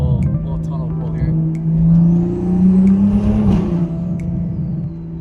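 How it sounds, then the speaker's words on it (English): Toyota Supra fitted with new coilovers accelerating through a tunnel with a window lowered, its engine rising in pitch as it pulls, loud and close with tunnel echo, a rushing swell near the middle. "I'm gonna lower the window, little tunnel pull here."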